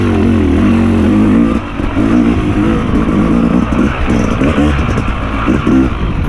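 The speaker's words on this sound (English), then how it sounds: "I like the sound of the exhaust" A loud Yamaha YZ250X two-stroke dirt bike revs and burbles continuously on the Rampart Range trail, its pitch rising and falling in quick throttle blips, close and harsh.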